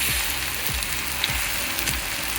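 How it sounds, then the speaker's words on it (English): Beer-battered vegan fish taco pieces frying in hot oil, a steady close sizzle and crackle with faint bubbling pops, no talking. "They probably sat in the oil for 2 minutes before they turn golden brown."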